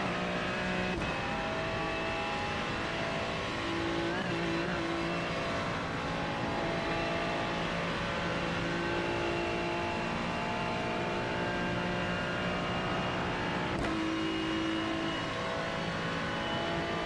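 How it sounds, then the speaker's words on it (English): Old Ferrari race car engine in a racing video game, a steady loud drone with sustained harmonic whine held at high revs throughout, brief shifts or bumps near the start and toward the end, no voices. "Super easy to drive the old Ferrari, mate."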